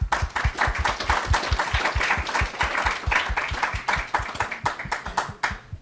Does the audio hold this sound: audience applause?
yes